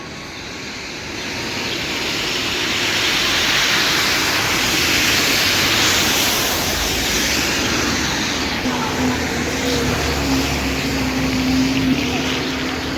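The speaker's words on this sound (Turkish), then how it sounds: "Şelale var." A waterfall near a market in the Swiss mountain village of Kandersteg sends out a steady, loud broadband roar that holds for the whole stretch, with a faint low hum entering late.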